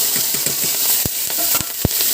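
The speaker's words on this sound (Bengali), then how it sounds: "এবার কড়াইতে মাছ দিয়ে দেবো।" Prawns fry in a hot wok with a steady, loud sizzle. A few sharp pops and crackles break through the hiss. No one speaks.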